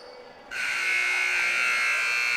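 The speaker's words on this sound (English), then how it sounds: "The buzzer sounds, end of the third quarter." A basketball arena buzzer ends the third quarter of a 2016 boys' Elite 8 championship game, starting abruptly and holding a loud, steady electronic drone to the end.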